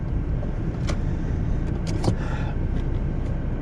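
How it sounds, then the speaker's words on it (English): A 1995 BMW E36 318i accelerating hard as its wheels spin in snow, giving a steady, fairly loud engine drone with broadband tyre and road noise and a few brief higher bursts. "Okay, if we try to floor it, here we go. Yeah, that's it. Yeah, we just wheel spinning with the snow"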